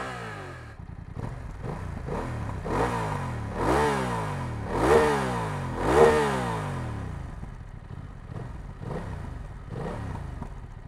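A BMW F900XR motorcycle engine starts and is revved several times in rising and falling sweeps, loud and close, before settling back to a steady idle.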